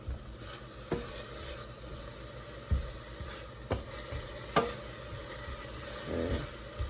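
Softened, translucent onions sizzle in a stew pot under a steady crackle, with a spoon scraping and knocking against the pot a few times at irregular intervals, close and moderately loud.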